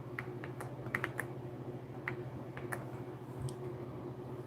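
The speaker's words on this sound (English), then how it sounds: "I'm typing names live." Keys clatter on a computer keyboard in scattered bursts of quick, crisp taps, close and clear over a steady low electrical hum, with no talking.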